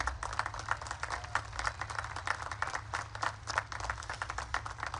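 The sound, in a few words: applause for faculty and staff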